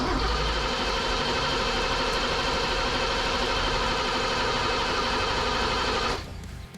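A rebuilt BMW E23 engine with no spark cranks continuously in a steady, buzzing mechanical churn without catching, loud and close, then cuts off abruptly near the end.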